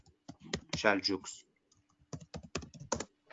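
Fingers type on a computer keyboard during an online history lesson: short bursts of close, crisp key clicks follow a brief spoken voice.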